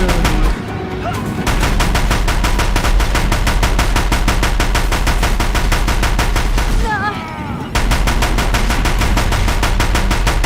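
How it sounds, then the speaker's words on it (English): Deathbringer machines firing in the video game Horizon Zero Dawn, a loud, dense, continuous barrage of rapid mechanical gunfire that drops back only briefly once before resuming at full intensity. "If the Deathbringers keep firing, this bridge will go"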